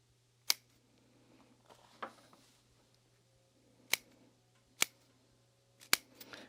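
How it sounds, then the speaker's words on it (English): Scissors snip the fabric corners of a sewn convertible bag, giving five or six sharp, separate cuts spread over several seconds, close and crisp against a quiet room. "I will trim a couple little snips as well here in the corners."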